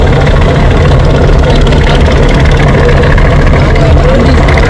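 Loud, steady low engine drone aboard a large passenger launch on a river, with constant rumbling hum and wind noise and no breaks.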